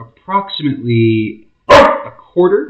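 A pet dog in a home kitchen gives several sharp barks and yips in bursts, close and loud, while someone talks between them.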